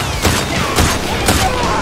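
Rapid video game gunfire in an alien-shooting game, with repeated loud bursts of shots in quick succession and sharp reports about every half second, close and dominant over brief background sound.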